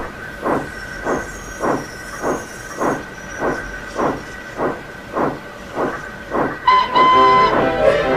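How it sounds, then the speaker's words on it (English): A steam locomotive in the Trainz train simulator chuffs loudly in an even rhythm of about a dozen puffs. A sharp hiss of steam and a whistle burst out near the end. "Cheers, sir, whistled Geoffrey, and he puffed away."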